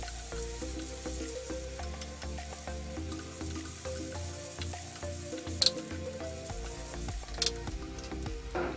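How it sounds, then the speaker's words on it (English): Garlic and green chili sauté in a pan for a Manipuri catfish curry, a steady close sizzle with occasional stirring scrapes and a couple of sharp clicks, no voices. "Now we can add the garlic, green chili, and again we're going to saute this for a few more minutes."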